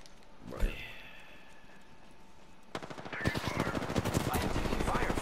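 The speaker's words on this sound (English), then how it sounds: "I am taking fire, friends." Apex Legends gunfire from an R301 rifle, a single shot followed by a rapid, loud burst of automatic fire that continues to the end, with game sounds and a player talking underneath.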